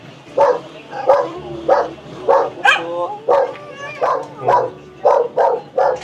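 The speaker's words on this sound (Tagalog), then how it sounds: "Ay, may aso." A dog barks in a steady run of about ten evenly spaced yips close by, with people talking over it at the doorway of a house.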